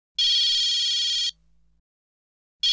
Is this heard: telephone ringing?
yes